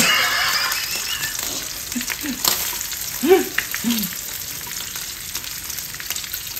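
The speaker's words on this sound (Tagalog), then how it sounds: "Golden brown na po ang ating bawang. Masarap po talaga sa ginigisa." Garlic sautéing in oil until golden brown for Ilocano pinakbet, a continuous hiss of frying punctuated by a few scraping stirs and light clinks, close and moderately loud with no voices.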